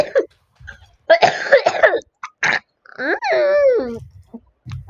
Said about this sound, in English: Violent coughing.